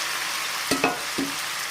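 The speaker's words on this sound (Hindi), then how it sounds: "अब इसमें जाएगा जी टमाटर और मिर्चें।" Tomatoes and green chillies drop into lightly golden onions frying in a pan. A constant sizzle runs throughout, broken by two or three short clinking stir strokes close by, with no speech.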